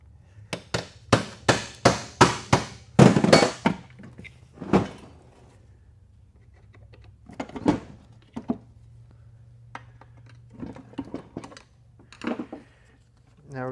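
A screwdriver prying apart the halves of a transfer case being rebuilt with billet parts: a rapid run of sharp metallic knocks and taps, then scattered clanks and scrapes with pauses, close by.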